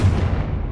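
A short, loud blast from the Confringo spell in Hogwarts Legacy, a deep close boom that decays quickly within under a second, with no voices.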